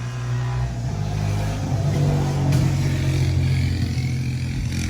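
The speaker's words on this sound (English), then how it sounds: "Someone's coming by on a 4-wheeler." A four-wheeler ATV engine drones and revs as it passes by, a steady mid-pitched motor sound rising slightly and then easing, fairly close, with no talking.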